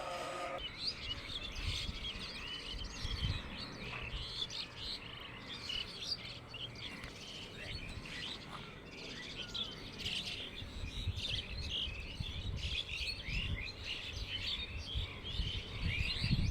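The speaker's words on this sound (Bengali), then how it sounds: "অসংখ্য চড়ুই পাখি এক জায়গার মধ্যে মানে দল বেঁধে বসে আছে" A large flock of sparrows perched together in Dhaka city keeps up dense, overlapping chirping and twittering, steady and moderately loud for the whole stretch, with faint insect-like buzzing underneath and no talking.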